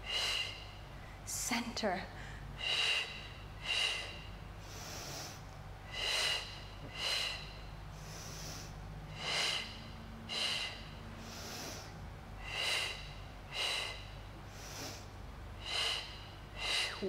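Steady, evenly spaced breaths out through the nose repeat during a Pilates matwork spine twist, close and clear, roughly a dozen sharp exhales with a brief spoken word near the start.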